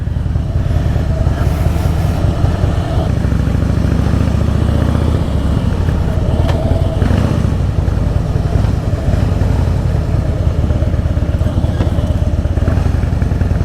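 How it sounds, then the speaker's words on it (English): A Harley-Davidson Fat Boy motorcycle with a Vance & Hines aftermarket exhaust rumbles steadily up close, a deep throaty burble with occasional clattering thumps and no talking. "I'm sure you can hear the Vans and Irons exhaust"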